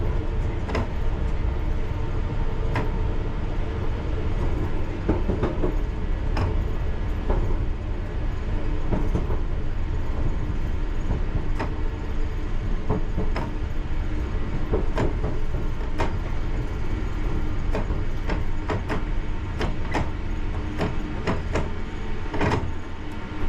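A London Underground train runs steadily along the line, with a constant low rumble and rhythmic clicks and clacks of wheels over rail joints throughout, with no talk.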